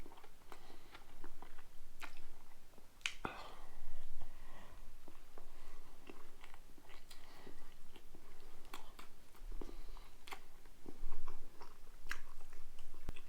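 Someone bites and chews crispy rainbow trout tacos at close range, with crunchy bites and wet chewing continuing throughout, no talk.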